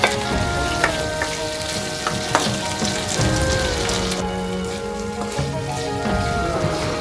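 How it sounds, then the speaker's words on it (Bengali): Marinated chicken frying in hot oil in a wok crackles and sizzles steadily, with scattered sharp pops and spatter, close and fairly loud, no voices. "এবার একটা কড়াইয়ে একটু তেল দিয়ে, তেলটা গরম হলেই ম্যারিনেটেড চিকেনটা ছেড়ে দেবো"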